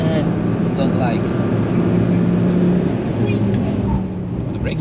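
Volvo V70 T5 braking hard over a crest at the Nürburgring, heard from inside: a steady engine and road roar that eases slightly near the end, under a driver talking.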